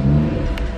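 A car engine idles and revs briefly after a cold startup, a low steady hum with a slight swell, close and alone.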